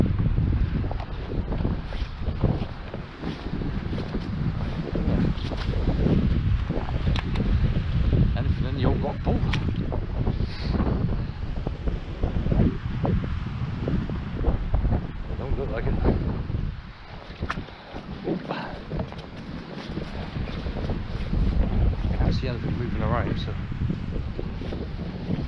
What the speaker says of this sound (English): The old wind's getting up now.